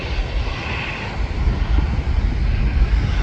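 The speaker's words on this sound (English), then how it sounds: "That must be a full plane, because that lifted off very late." A heavily loaded airliner roars through its takeoff roll and climb at Manchester Airport, a sustained broadband engine rumble that swells slightly louder midway, heard from a nearby viewing area with some wind noise.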